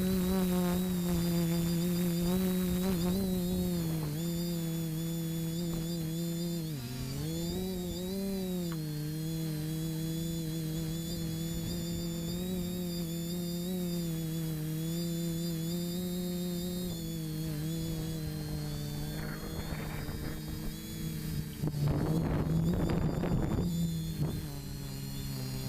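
A TBS Discovery quadcopter carrying a GoPro camera flies in GPS mode. Its motors make a steady, buzzing whine that wavers in pitch as it manoeuvres, and gusts of wind noise come in near the end.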